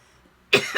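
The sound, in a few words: coughing and throat clearing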